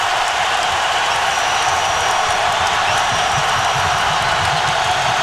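A basketball arena crowd roars steadily at a college game between Florida and Tennessee, a dense and loud wash of cheering with no breaks.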